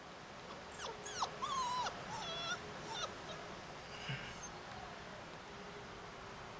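A Bully Kutta puppy of about five and a half weeks whimpers in a few thin, high, wavering cries in the first three seconds, fairly close, over a quiet room hum that carries on alone afterwards.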